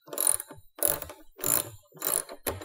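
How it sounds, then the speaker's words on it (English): A wrench tightens the bolt of a G3BT sign on a TGB Delivery Express scooter, producing five close, evenly spaced ratcheting bursts with brief pauses between them. "So we're just tightening this into place,"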